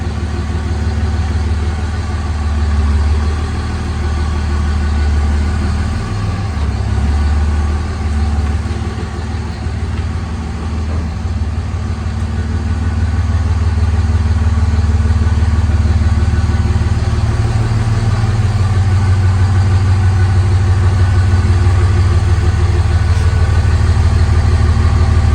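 A 5.9 Dodge Cummins diesel with a Banks 4-inch exhaust and muffler runs steadily throughout, a loud, deep idle rumble with a slight rise and fall in the middle and no voices.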